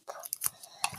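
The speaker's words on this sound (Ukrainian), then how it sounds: "відрізаю скотч" A few quick, crisp snips of scissors slicing through adhesive tape while making a paper garland, close and isolated, in a short burst.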